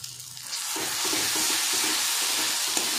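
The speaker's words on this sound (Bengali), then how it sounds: "মশলাটা একটু ভেজে নেব।" Spices with salt and turmeric frying in a pan for a Bengali fish curry, a steady loud sizzle that swells after a brief quieter start, with faint stirring underneath.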